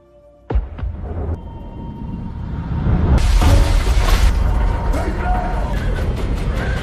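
In a disaster film, a comet fragment sets off a shockwave explosion: a sudden sharp blast, then a roaring rumble that swells into a louder crashing, shattering surge and holds steady to the end.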